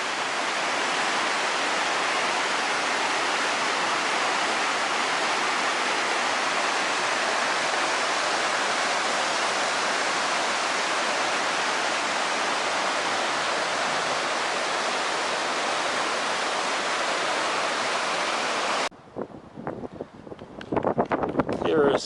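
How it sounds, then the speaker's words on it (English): Bridal Veil Falls in Yosemite crashes onto rocks as a loud, steady roaring wash that cuts out near the end, leaving quieter rustling and wind. "You can hear the water coming down, crashing against the rocks."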